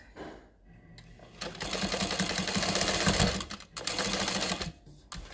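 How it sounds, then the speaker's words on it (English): A sewing machine stitches a tote bag in bursts, a brief pause near the start and a short stop late before it runs on, steady and close with no talk. "we're going to keep sewing all the way to the 3/8 of an inch mark"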